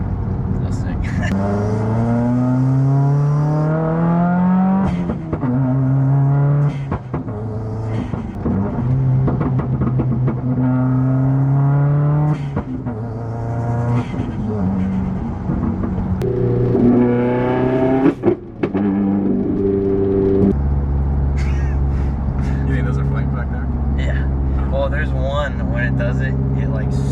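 A Subaru WRX accelerates through repeated gear shifts with a loud, close engine note that rises and falls, and scattered exhaust pops and crackles break in between the pulls.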